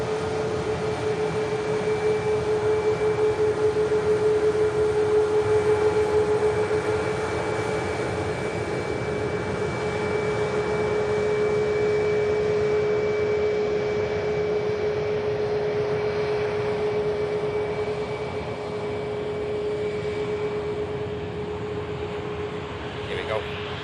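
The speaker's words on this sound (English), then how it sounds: "Cathay now, just beginning the takeoff roll." A Cathay Pacific airliner begins its takeoff roll at an airport, its engines a steady, droning roar with a sustained hum that holds evenly throughout.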